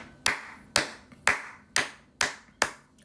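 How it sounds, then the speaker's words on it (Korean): Six sharp hand claps at a slow, steady pace, close and crisp, with no talking, in a Korean English-grammar lecture. "박수."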